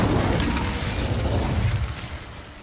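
An Incendio fire spell bursting in Hogwarts Legacy gives a loud, rumbling whoosh of flame with crackling texture that slowly fades toward the end, with no voices.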